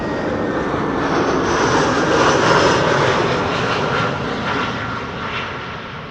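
An all-white Vueling airliner arriving at Amsterdam Schiphol Airport from Palma de Mallorca on a sunny day: a steady, loud broadband jet engine roar that swells in the middle and slowly eases.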